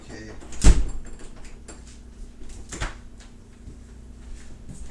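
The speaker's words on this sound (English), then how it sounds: "My door just opened" A door swings open with a sharp knock near the start, then a fainter second bump and soft room noise.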